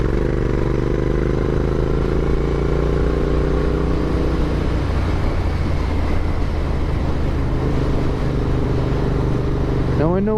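Royal Enfield Continental GT 650 motorcycle riding on a twisty road, a steady loud engine drone with wind rush filling the whole stretch, a sharp rising rev swelling near the end.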